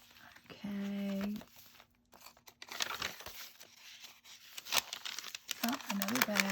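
Plastic bag of journaling embellishments crinkled and rustled while flipping through a Christmas journal, intermittent crackling bursts with someone talking at the start and end.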